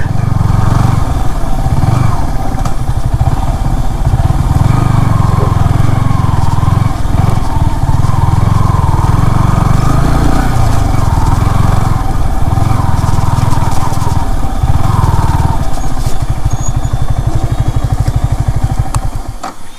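A motorcycle engine runs steadily and loudly up close for the whole stretch in the hilly Susang Durgapur area, a continuous low rumble with slight shifts in revs.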